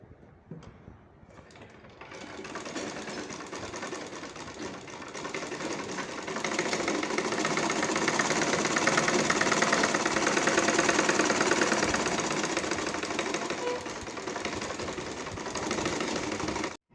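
A sewing machine runs in a steady, close, continuous whir while stitching a sleeve cuff, with a rapid mechanical rattle that rises slightly midway and cuts off at the end.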